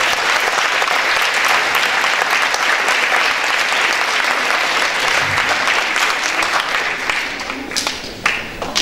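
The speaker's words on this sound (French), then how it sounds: "Je voudrais que vous applaudissiez Thierry Feutry, le proviseur du lycée Paul-Victor." An audience at a school stage event applauds the principal of Lycée Paul-Victor, a loud, sustained wash of many hands clapping that thins out into scattered claps toward the end.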